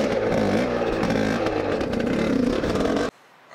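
A motorcycle engine idles and revs unevenly as the bike is pivoted through a semicircular turn, loud and close with scraping clatter, cutting off abruptly near the end.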